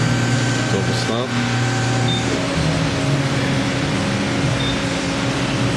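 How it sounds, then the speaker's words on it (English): Continuous mechanical hum of a vacuum pump evacuating a Toyota Corolla's A/C system, steady and fairly loud, with a voice briefly audible near the start. "So now we're just going to vacuum it."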